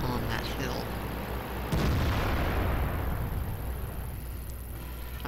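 A tank gun firing in the World of Tanks video game, one loud booming blast that rolls into a long fading rumble under steady battle noise, with someone talking around it.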